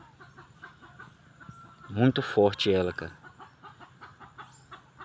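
An agitated hen clucks in a quick burst of loud, harsh calls near the middle, after one of her chicks has been seized by a constricting snake; a voice speaks before and after, with faint bird sounds in the background.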